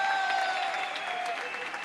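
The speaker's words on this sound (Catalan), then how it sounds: "Un fort aplaudiment!" An audience at La Patum applauds in a sustained, dense wash of clapping that carries through the whole moment, with faint crowd murmur underneath.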